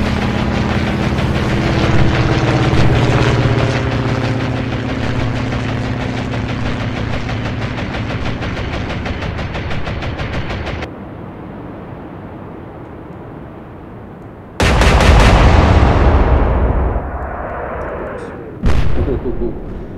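Airstrike in the naval war game Atlantic Fleet, Swordfish torpedo bombers attacking the Bismarck: a long dense rumble of gunfire and artillery, then a sudden loud blast that trails off, with a second sharp burst near the end.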